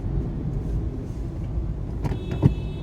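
Road traffic on the NICE Road highway in Bangalore, trucks among the vehicles, gives a steady low rumble of passing engines, with a brief sharper knock and rattle near the end and no talking.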